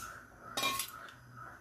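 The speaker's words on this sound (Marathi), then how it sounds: "कढईमध्ये आपण आता हे आवळे घालून घ्यायचे आहे वाफवलेले." Steamed star gooseberries tipped into a hot wok, giving a short clattering, clinking burst of metal and fruit against the pan with no voices.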